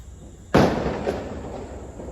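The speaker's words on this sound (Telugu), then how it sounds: "క్రాకర్స్ కూడా కాలుస్తున్నారు" A Diwali firecracker bursts with one sharp, loud bang, followed by a fainter second pop and a fading rumble.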